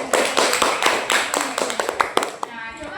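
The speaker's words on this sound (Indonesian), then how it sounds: "Ayo kita berikan tepuk tangan." Schoolchildren clap their hands in a classroom in a quick run of sharp, uneven claps lasting a few seconds, with young voices mixed in among them.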